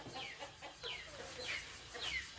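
Chickens cluck in repeated short bursts while being caught for a home-style underwater-baked chicken dish, the calls close and fairly loud over a constant background.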